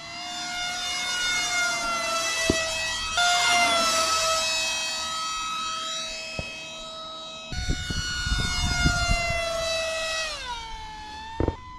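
An RC pusher-puller twin-engine airplane screaming past at full power in three high-speed passes, its high whine rising and sweeping down in pitch with each fly-by, with some wind buffeting between passes.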